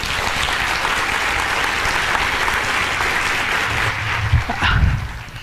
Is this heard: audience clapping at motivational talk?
yes